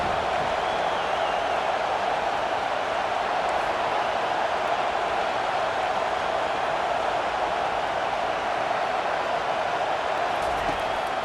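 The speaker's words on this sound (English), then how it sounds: "The roar of the crowd trying to fuel this defense to keep them pinned in their own end." A dense, steady stadium crowd roar at a Notre Dame football game, a broad continuous wash of voices and cheering that stays loud and unbroken throughout.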